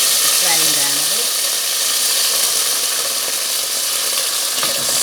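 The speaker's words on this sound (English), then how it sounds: "Sear the garlic and also the potatoes." Potatoes and garlic sear in a hot pan with a loud, steady, even sizzle that hisses without a break throughout.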